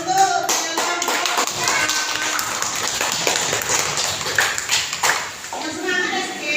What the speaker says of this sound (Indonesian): Kita kasih aplaus untuk kelompok